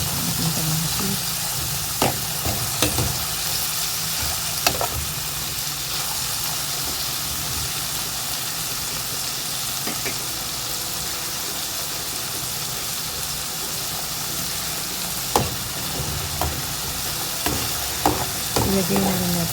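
Tomatoes sauté in a pan for salmon sinigang, a steady loud hiss and sizzle running throughout, broken by occasional sharp clicks and scrapes of stirring.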